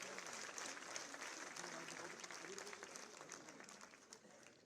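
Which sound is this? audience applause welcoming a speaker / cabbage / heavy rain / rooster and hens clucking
audience applause welcoming a speaker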